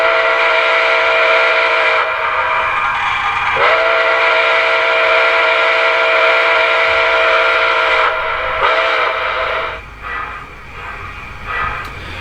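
Steam whistle of an MTH Nickel Plate Road 2-8-4 Berkshire #765 HO-scale model locomotive, a loud sustained chime-like tone blowing for about ten seconds with a brief dip partway, then cutting off to a quieter mechanical hum.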